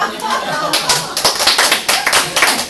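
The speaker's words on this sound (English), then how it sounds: "I expect some applause here." Close, loud clapping from a small group at a Toastmasters meeting, sharp individual hand claps forming an uneven burst that swells and continues through the moment.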